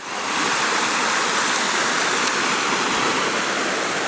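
Small waterfalls and a stream tumble through a bushland gully, giving a steady, close rush of splashing water with no pauses, with no voices in it.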